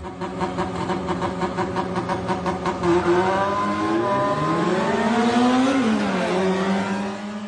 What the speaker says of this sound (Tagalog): Ang maingay na revolusyon ng selinyador ng mga kotse sa 10 oras pa naman ng gabi.